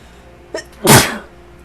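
One sharp, close human sneeze, preceded by a brief quick inhale, standing alone against a quiet room.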